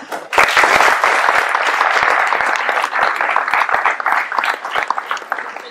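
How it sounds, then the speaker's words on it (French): Dense applause from an audience at a town ceremony in Ploërmel honouring local sports figures, here a student swimmer. It starts abruptly and stays loud and steady for several seconds, with no talk over it. "Et on peut encore l'applaudir."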